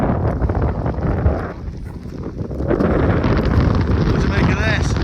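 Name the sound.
wind blowing on Pen Y Fan mountain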